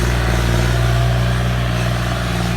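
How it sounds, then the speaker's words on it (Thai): A powerful farm tractor engine runs close by with a loud, steady, droning rumble that holds an even pitch throughout, with no voices over it. "เนี่ยรถไถแรงมากเลยครับ"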